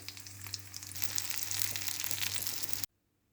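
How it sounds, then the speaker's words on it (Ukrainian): A chicken schnitzel sizzles loudly in a pan of fresh oil, a dense close crackling hiss with a low hum beneath, cutting off abruptly near the end. "наливаю знов олійку нову і смажу третій шніцель вже на новій олії"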